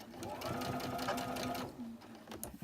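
A sewing machine runs steadily as it chain stitches pinned fabric pieces, with a fast, even whirr close by that slows and stops near the end, leaving a few soft handling clicks.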